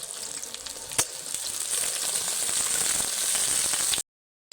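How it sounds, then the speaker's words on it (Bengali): Steady, dense sizzling of potatoes frying in hot oil, with a few sharp pops near the start, running continuously before cutting off abruptly. "শুধুমাত্র আলুটাকে লালচে লালচে কালার করে ভেজে নেব"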